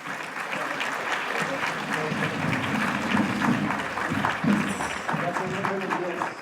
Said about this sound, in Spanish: Recibamos al doctor con un caluroso aplauso.